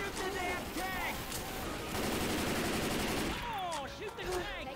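Rapid gunfire and automatic weapon bursts from a Left 4 Dead 2 firefight against the Tank, dense and continuous, with players talking and shouting over the shooting.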